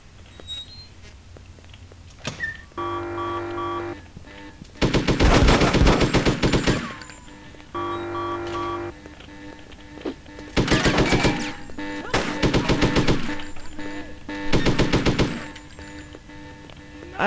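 An M60 machine gun fires in the video game Hitman 2, with several loud sustained bursts of rapid automatic fire separated by pauses, over a faint game background.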